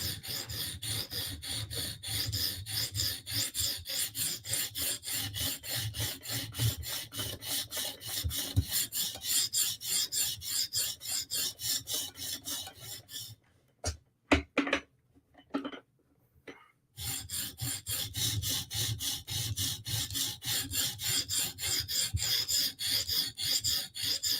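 Knives, a Spartan Harsey and a ZT, are sharpened on a stone with steady back-and-forth rasping strokes, close and even. The strokes pause briefly for a few scrapes and clicks, then resume in the same rhythm.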